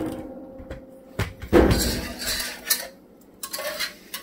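A thickened mixture is whisked hard in a pot just off the heat, with uneven metallic scrapes and clanks of the whisk against the pot, loudest around the middle.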